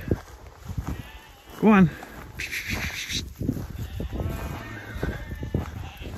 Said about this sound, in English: Go on, sheepy sheeps. Go that way.